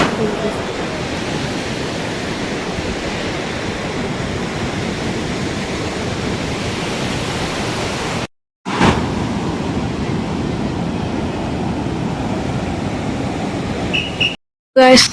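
Rough sea surf pounds Kovalam beach in the rain, a steady broadband wash of breaking waves that runs continuously, loud and close, broken by two brief gaps.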